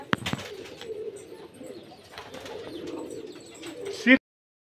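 Pigeons of fancy flying breeds, kept for sale, coo steadily at close range in a loft, with a brief flutter near the start and a louder burst of calls at the end.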